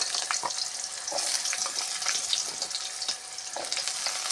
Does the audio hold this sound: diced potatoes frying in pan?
yes